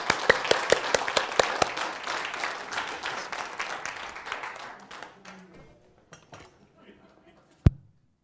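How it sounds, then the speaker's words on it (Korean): Audience applause at a Bible-and-science lecture welcoming a speaker, loud and dense at first, thinning into scattered claps and fading out, ending with a single sharp thump. "박수로 모시겠습니다"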